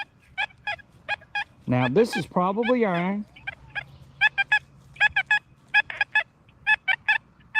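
Short, high electronic chirps from an XP Deus II metal detector repeat in quick irregular bursts close up, pausing briefly while someone speaks.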